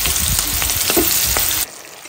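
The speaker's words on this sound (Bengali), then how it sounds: "আর এখানে আমি সবজিটা ভেজে নিচ্ছি" Vegetables fry in a pan with a crackling, spitting sizzle and scattered pops, loud and close, then suddenly dropping to a quieter hiss near the end.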